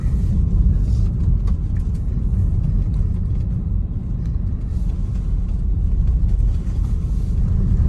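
Steady low rumble of a Tesla Model Y electric car rolling along the road, quiet and smooth with no engine roar, only tire and road noise throughout.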